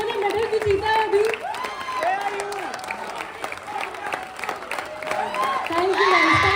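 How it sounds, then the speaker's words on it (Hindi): Applause and cheering from an audience at a Bihar Diwas celebration at Chandigarh University, steady crowd noise for several seconds with voices and whoops mixed in over the clapping. "सुमित भैया के लिए एक बार जोरदार तालियां हो जाए"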